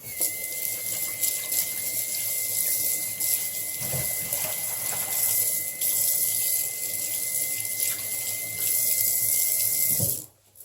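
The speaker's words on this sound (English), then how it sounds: "because my hands are nasty, I'm going to need to rinse them off real quick" Water pours steadily from a kitchen tap as hands are rinsed, a close continuous hiss and splash broken by brief shifts in the flow, cutting off abruptly near the end.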